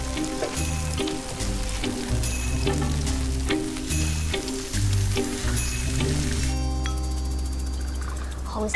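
Moldy tofu frying in a pan gives a steady close sizzle and crackle, partly covered by background music, with a brief shift in tone near the end.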